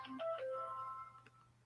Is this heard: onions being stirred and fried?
no